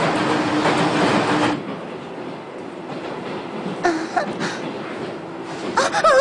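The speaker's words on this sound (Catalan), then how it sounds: "Sort que el tren fa mitja volta i tornem." A train running on rails, heard as a steady rolling rumble with clatter, close and fairly loud, fading a little and then joined by faint squealing wheel tones near the end.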